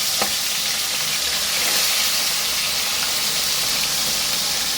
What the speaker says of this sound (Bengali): তেল কিন্তু আমার গরম হয়ে গেছে, মাছগুলো দিয়ে দেব